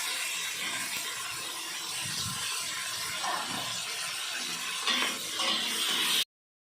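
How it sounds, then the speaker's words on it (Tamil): Ginger and garlic sautéing in a pan for a country chicken biryani, giving a steady close sizzle and hiss with occasional stirring clinks, then cutting off abruptly to silence. "இஞ்சி பூண்டு போட்டு வதக்கிக்கலாம்"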